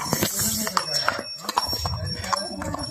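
Horses carrying riders on a cold Mustang trail in Nepal, hooves clip-clopping at a walking pace amid chatter and talk from people nearby.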